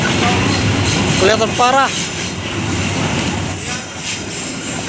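A long container freight train carrying cement rolls past a station track, a loud continuous rumble with rattling wagons and a squealing wheel sound early on, while someone speaks over it.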